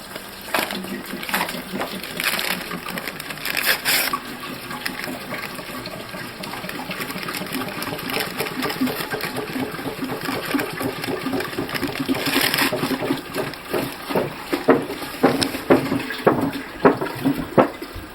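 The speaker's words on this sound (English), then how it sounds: "go pour it in the top reservoir of the filter." Water poured from a pitcher splashes and trickles steadily into the top reservoir of a water filter, with irregular gurgling and dripping that grows more pronounced toward the end.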